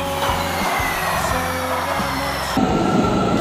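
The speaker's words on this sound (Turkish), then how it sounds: "Evet dostlar, metromuz hem geldi." A metro train pulls into a station with a loud, steady rumble and rolling wheel noise that shift and swell partway through, heard close by and continuous.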